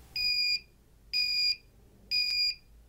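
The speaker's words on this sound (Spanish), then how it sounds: "Esto me servirá como una alarma sonora para avisarme con sonido cuando se detecte alguna sombra pasando por el sensor." A 5-volt active buzzer driven by a 555 timer circuit sounds three even, shrill electronic beeps about half a second each, spaced roughly a second apart, loud and close with quiet gaps between.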